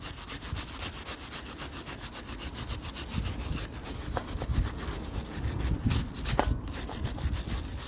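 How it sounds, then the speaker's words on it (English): A wire brush scrubs rust from a wrought iron railing in steady, rhythmic back-and-forth strokes, a close, continuous rasping that fills the whole stretch with no talking. "So we'll do the wire brush."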